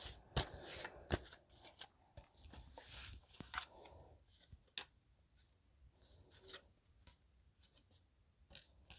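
Tarot cards being shuffled and dealt, with a run of crisp riffling flutters and sharp slaps of cards laid down, close and fairly loud, followed by quieter sporadic handling with no talk.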